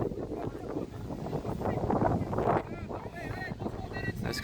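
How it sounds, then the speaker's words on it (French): Wind gusting against the microphone with a broad rumble at an outdoor under-20 sports match, while people talk nearby over the steady blustery noise. "Pas mal de vent là tout d'un coup qui se remet à souffler."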